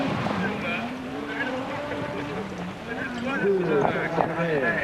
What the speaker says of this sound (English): Sharp explosive exhaust as he changes down and